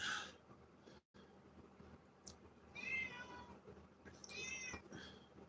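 A cat meows twice, first short and then a longer drawn-out cry, both fairly close and clear over a low, steady indoor background with no talking.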